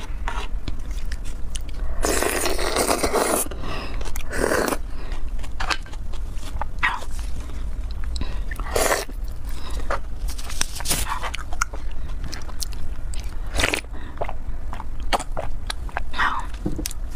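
Spicy raw crab with roe is eaten close to the microphone, with wet crunching, sucking and chewing bursts repeating steadily over a constant low background hum, no talking.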